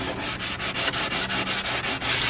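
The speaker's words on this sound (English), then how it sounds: "120 grit is just way too aggressive for a nice finish" Sanding a wine cork board by hand with coarse 120 grit sandpaper gives steady rhythmic scratchy rubbing strokes, about ten passes, loud and close with no talk.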